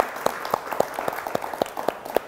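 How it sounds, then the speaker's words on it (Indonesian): A small audience at an official opening event in Yogyakarta gives guest speakers a brief, sparse round of applause, heard as distinct individual claps at a fairly even pace and moderate distance. "Saya boleh minta tepuk tangan untuk narasumber yang hari ini sudah rawuh di obrolan Sikoin."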